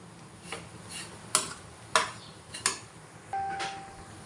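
Coconut being stirred and roasted in a pan on a low flame: a handful of faint, scattered scrapes and light metallic taps from the utensil against the pan, with no voice.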